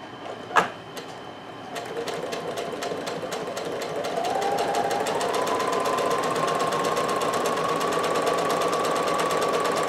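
A sewing machine runs a quarter-inch seam along fabric, starting with a single clunk and then settling into a steady, loud, rapid mechanical whir that continues unbroken to the end.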